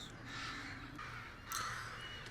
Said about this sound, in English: Oh god, I just realized those are all crows.